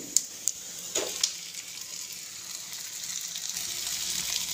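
Meat dropped into a pan of golden fried onions gives a steady, soft sizzle with a few sharp crackles and spits near the start, continuing evenly without talk.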